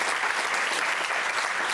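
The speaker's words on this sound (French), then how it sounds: "qu'on peut applaudir très fort." Audience applause at a live French comedy show, a dense, loud, continuous wash of clapping from a crowd with no break.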